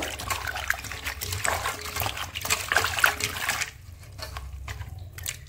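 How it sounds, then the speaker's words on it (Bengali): Cut potato pieces are washed in water while preparing a Bengali rohu fish curry, giving a steady splashing, trickling wash that stops abruptly partway through, leaving quieter drips and small movements. "আলুগুলো ভালো করে কষলি কষলি আমি এইভাবে ধুয়ে নেব।"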